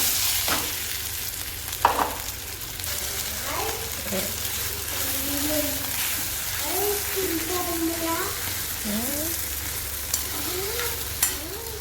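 Steady sizzle of potatoes frying with cumin in a kadhai runs through the whole stretch, with occasional scraping stirs and a voice talking over it.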